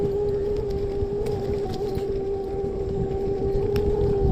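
An electric scooter climbs a steep hill at full throttle in eco mode, its motor holding a loud, steady whine over rushing wind noise throughout.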